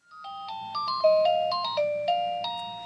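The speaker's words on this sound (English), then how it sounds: "there is a victory bell that is rung at CompassCare, and it sounds something like this" A bright electronic chime plays a quick sequence of clear ringing tones, each note sustaining and overlapping, loud and close.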